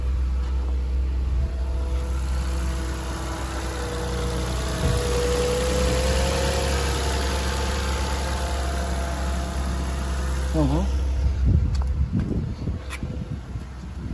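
A Renault Symbol 0.9 Turbo idles just after being started cold, with a steady, low engine hum that runs unbroken and fairly loud for the whole stretch, plus a few faint sounds near the end.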